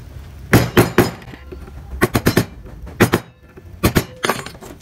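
A wood-carving scoring chisel is struck repeatedly while cutting ornament lines, making sharp, close, loud taps in quick clusters of two to four with short pauses between.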